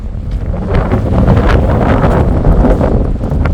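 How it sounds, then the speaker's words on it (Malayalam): Strong wind buffets the microphone beside a mountain lake at Sela Pass, a loud continuous rumbling roar with gusty surges and no break. "ഈ ലേക്കിൽ അടിച്ചിട്ടാണ് ഈ കാറ്റ് വരുന്നത്"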